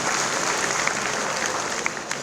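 A large audience claps loudly and steadily at a Pravasi Jat convention in Bangalore, a dense, even wash of applause lasting the whole moment with no voices over it.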